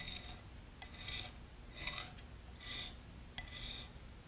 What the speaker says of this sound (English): Now let's go ahead and scrape some area here so you can see